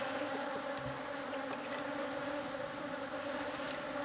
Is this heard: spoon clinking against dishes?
no